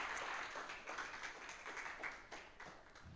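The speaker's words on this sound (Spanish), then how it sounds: "Fuerte aplauso al Señor." A church congregation applauding for the pastor, steady dense clapping sustained throughout at a moderate distance, filling the room without speech.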